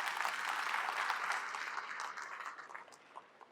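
An audience of students claps at an academy guidance talk in Delhi, a dense wash of applause that gradually thins and fades out.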